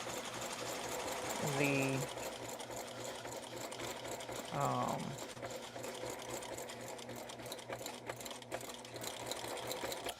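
Sewing machine stitching back and forth over elastic while making baby shower gifts, heard in two short whirring bursts with a quiet room and soft background noise between them.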